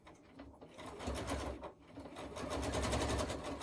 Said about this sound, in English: I go to my sewing machine, which is set up here for quilting, and I just am going to stitch